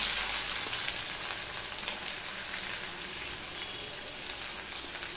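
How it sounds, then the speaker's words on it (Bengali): Onions and green chilies frying with black cumin in a pan for masala bhendi, a steady broadband sizzle and crackle that holds evenly near and loud for the whole stretch, with no voices. "এটা আমি ভাজবো যতক্ষণ না পেঁয়াজের কালারটা পুরো ব্রাউন কালার বা লাল কালার হয়ে যাচ্ছে"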